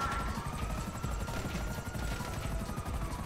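Helicopter in the online video game GTA Online during a heist, a steady rotor thrum with a faint whine, continuous and fairly close, with no talk over it.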